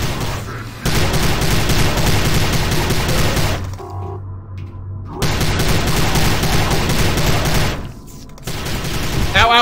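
Heavy gunfire in the video game Prey, dense rapid automatic bursts, loud and close, stopping briefly twice before resuming, with a voice sometimes audible beneath.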